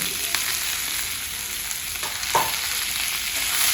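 Ivy gourd fries in a pan with salt and turmeric, giving a steady close sizzle as a spoon stirs it, with a few soft scrapes and clinks and no talking.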